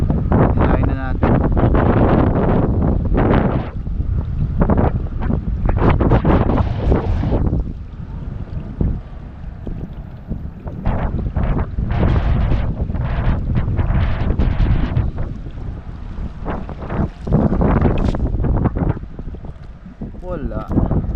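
Strong amihan wind at sea around a fishing boat, steady gusty roar and buffeting across the microphone with engine and water noise underneath, and someone talking intermittently over it.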